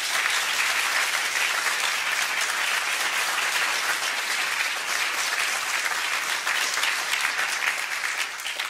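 An audience at a university lecture honoring Seamus Heaney in Liverpool breaks into sustained applause, dense steady clapping from a large crowd that fills the room without pause.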